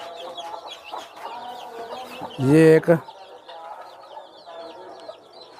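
Black hens clucking and chattering steadily with bird calls in the background, broken by a short loud clatter near the middle; someone speaks briefly.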